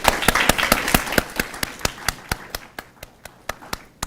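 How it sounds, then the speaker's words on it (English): Audience at a middle school speech contest applauding parents: clapping starts dense and full, then thins to a few sharp, evenly spaced claps that continue to the end. "Let's applaud our parents."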